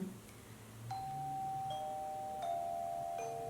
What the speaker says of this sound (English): And I know that's my doorbell.